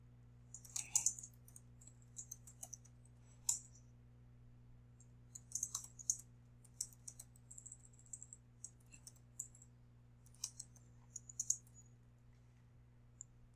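Clicky bursts of keys being typed on a computer keyboard in short, irregular flurries separated by pauses, fairly faint over a steady low electrical hum.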